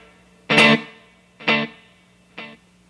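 An electric guitar played through an Empress Effects Superdelay Vintage Modified delay pedal sounds one distorted chord that repeats as two fading echoes, each quieter than the last, with nothing else heard.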